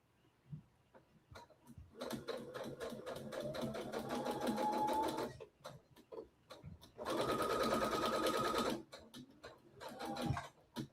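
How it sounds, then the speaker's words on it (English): Brother SE700 sewing machine stitching a pocket on a zipper headband, two long close bursts of rapid mechanical whirring with ticking clicks and handling noises between them. "So we're just sewing our little pocket."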